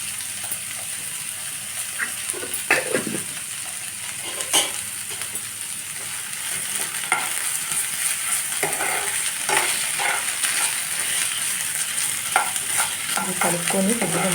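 Ginger garlic paste is stirred into a sizzling pan of cashew and drumstick curry, with a steady frying hiss under occasional close scraping and clinking strokes of the spoon, and no voices.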